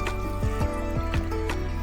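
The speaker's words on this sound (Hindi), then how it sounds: "हमने फालसों का पानी भी डाल दिया है।" Soaking water from falsa berries is poured into a blender jar, a close, wet trickling and splashing with a few rhythmic glugs over a steady low hum.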